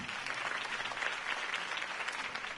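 A video game crowd claps and cheers continuously, a dense wash of applause at steady volume with no pauses.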